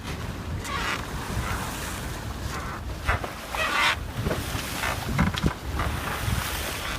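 A sailing catamaran punches into a 12 knot easterly over a confused two-metre swell and chop, with steady rushing water and wind across the microphone, broken by occasional slaps of hull on waves.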